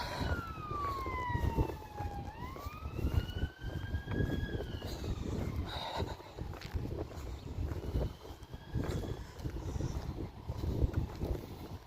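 A police car or ambulance siren wails in rising and falling sweeps, heard from a distance over wind and outdoor traffic rumble near a seaside town.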